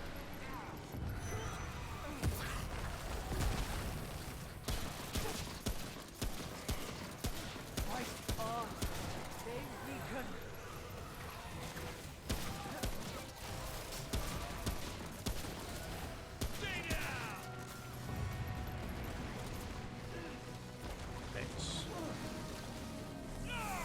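Rapid gunfire in the video game Remnant, a steady stream of repeated sharp shots in a regular rhythm under a busy, rain-like background with a voice talking throughout.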